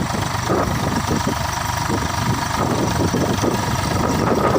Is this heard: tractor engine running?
yes